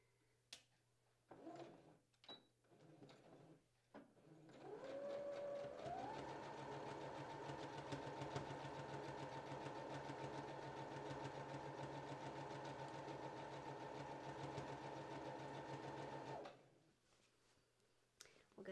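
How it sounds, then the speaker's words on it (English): A sewing machine stitches a dress armhole in one steady run of about twelve seconds, its motor whirring up to speed and holding, fairly close, with small handling clicks before and after. "I'll just start sewing this armhole."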